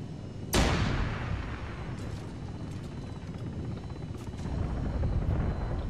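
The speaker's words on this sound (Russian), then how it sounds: "Это ехал вертолетик." A helicopter in Arma 3 throbs with a low, steady rotor drone that sits close and loud, opening with a sharp impact-like burst and then rumbling on without a break.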